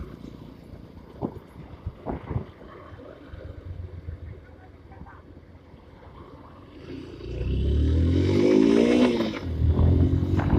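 Honda Hornet 160 motorcycle engine rumbling quietly at first, then a loud rising roar of revs around the gear changes, close and continuous with faint wind noise.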